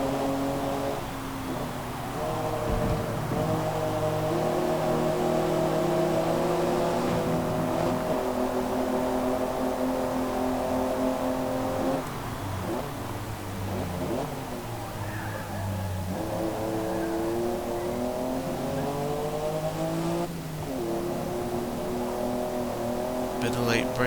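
BMW M6 race cars in Forza Motorsport roar continuously through the gears, with repeated rising revs and shifts, late braking and a rival car nearby. A commentator talks over the engines throughout.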